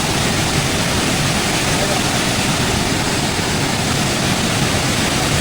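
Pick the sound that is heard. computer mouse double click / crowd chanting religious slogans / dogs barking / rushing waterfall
rushing waterfall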